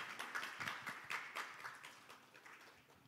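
Applause from a conference audience at UbuCon Asia 2022 as sponsors are recognized, with scattered, fairly faint hand claps that thin out toward the end.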